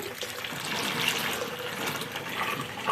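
Water drains down a household drain in a continuous, close rushing and gurgling stream that holds steady throughout, with no talking.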